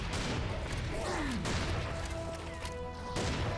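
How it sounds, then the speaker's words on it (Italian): Explosions in the video game Serious Sam 4, a dense continuous barrage of loud crashing blasts and booms with no pause, under chaotic combat noise. "Vai con le esplosioni."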